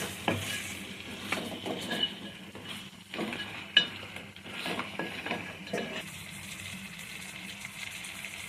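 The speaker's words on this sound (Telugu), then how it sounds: "ఇప్పుడు మనం శుభ్రంగా కడిగి పెట్టుకున్న పీతలను కూడా ఇందులో వేసుకుందాం" Cleaned crabs cooking in masala in a pan, with soft sizzling and intermittent stirring scrapes and clinks of a utensil, close up and moderately quiet, fading to a steadier simmer toward the end.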